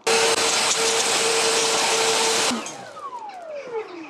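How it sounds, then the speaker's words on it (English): An EGO LBP8000E twin battery backpack leaf blower roars loud and steady at full power close by, then cuts off abruptly and winds down with a falling whine. "Now time for the twin battery backpack blower."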